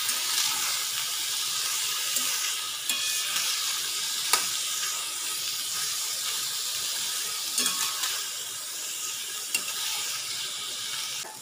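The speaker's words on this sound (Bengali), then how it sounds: "এবার ভালো করে ভেজে নেব।" Chopped banana stem fries in a pan for a Bengali thor bori dish, a soft continuous sizzle with scattered light clicks and scrapes of stirring, fairly quiet and close, no talk.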